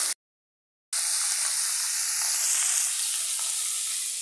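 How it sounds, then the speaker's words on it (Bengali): Fish poured into hot oil in a pan sizzle loudly and continuously after a brief silent gap, a close, bright hiss with faint stirring clinks. "এখন আস্তে আস্তে এই মাছগুলি সব একসাথেই আমি ঢেলে দেবো।"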